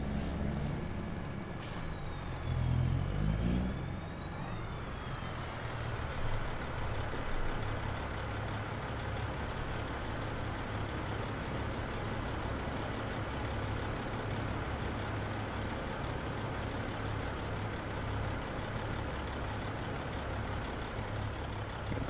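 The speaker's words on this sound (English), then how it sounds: "Jake brake on this thing sounds good too." A semi truck's Jake brake in Farming Simulator 25, a loud, steady low engine drone that rises briefly at the start and then holds as a continuous rumble, no talk.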